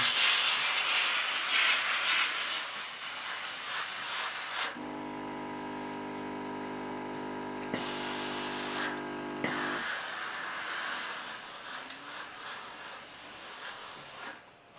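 A steam iron on polyester dress uniform trousers: broadband hissing bursts at the start and end, with a quieter stretch of steady tonal hum in between; no talking.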